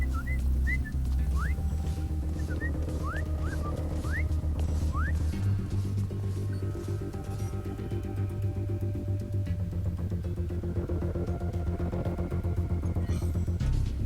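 Whistling in the video game Volume gives short rising whistle chirps over a dense, steady bed of game music and ambience. The chirps are clear early on and then fade into the loud background.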